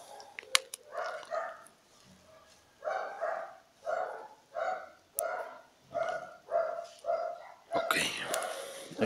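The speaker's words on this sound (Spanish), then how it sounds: "y ya está la jauría completa ladrando." Several dogs bark together in a loose, repeated chorus, roughly a dozen bursts at a steady rhythm, moderately close, with brief pauses between volleys.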